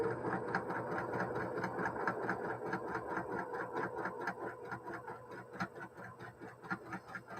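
A sewing machine stitches a quarter-inch seam in a steady, rapid mechanical patter with a low motor hum underneath, close and moderately quiet throughout.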